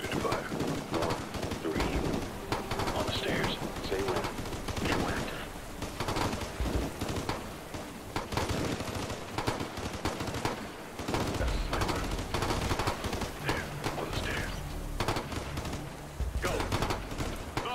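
Assault rifle fire in the video game Ghost Recon: Future Soldier, steady fast automatic bursts nearly throughout, loud but slightly distant, mixed with faint voices over radio chatter.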